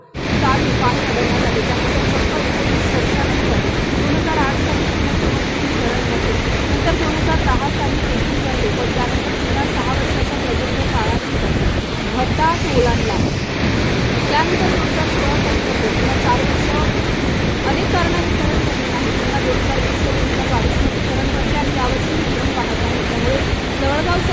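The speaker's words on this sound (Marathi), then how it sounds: "धरण पूर्ण क्षमतेने भरून सांडव्यातून पाणी वाहू लागले आहे" Water from the Jawalgaon medium project dam, filled to full capacity, rushes loudly and steadily through the spillway in a constant roar that holds for the whole stretch.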